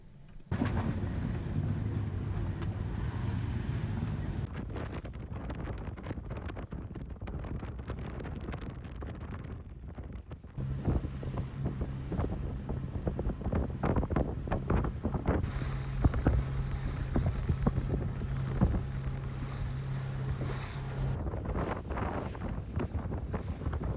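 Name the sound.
sailboat sailing off Suduroy, Faroe Islands, in wind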